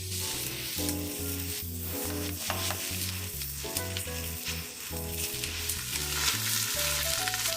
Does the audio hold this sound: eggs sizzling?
yes